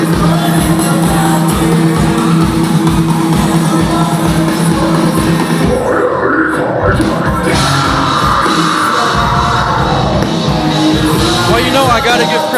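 Crowd cheering and yelling at a live band battle set, a loud continuous roar of voices blended with thumping music throughout.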